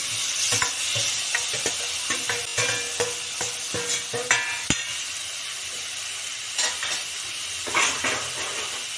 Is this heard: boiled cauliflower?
yes